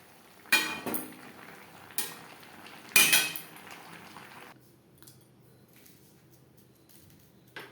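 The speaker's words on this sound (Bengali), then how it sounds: "সবজির সাথে আলু বেশ ভালো করে মিক্সড করে দেব" A metal spoon clanks and scrapes in a pan as boiled potatoes are mixed with vegetables for a mixed vegetarian dish, with three sharp clangs followed by softer stirring and quiet.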